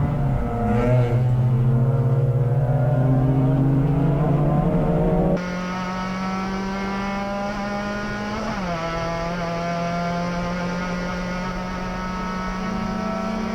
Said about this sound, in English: that group of cars comes past us underneath the bridge